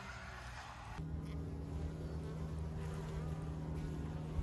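Bees hum around a large cedar log beehive in a continuous, moderately close buzz that swells slightly after the first second, with no talking.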